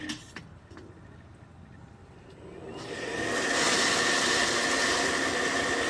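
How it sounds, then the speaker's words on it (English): A pressure-activated water system's pump kicks on after a valve is opened, ramping from quiet clicks into a steady, loud motor hum and whine that holds close by. "the pump will cycle up again"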